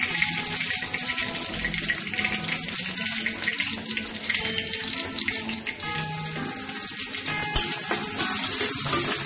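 Sliced onions go into hot oil in a home kitchen and hiss loudly and steadily throughout, a dense broadband sizzle with no talking.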